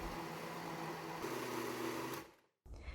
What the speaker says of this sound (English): Blend for about 30 seconds or until well combined.